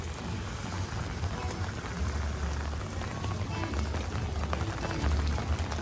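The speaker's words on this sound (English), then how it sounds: "Wish that the rain would stop." Steady rain falls across Magic Kingdom during a Halloween party evening, a dense continuous patter with low rumble beneath, sustained and fairly loud throughout without clear talk.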